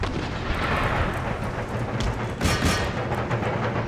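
Artillery and mortar fire in Empire: Total War, a continuous rumbling barrage of booming shots and explosions with a few sharper blasts standing out, loud and dense throughout, with no voices.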